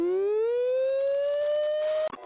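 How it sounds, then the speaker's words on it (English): A submarine's general alarm blares over the 1MC shipboard speaker, a rising, harmonically rich electronic tone that climbs and holds loud for about two seconds before cutting off abruptly. "The general alarm shrieking through the 1MC speaker right outside of my rack when I was on a submarine."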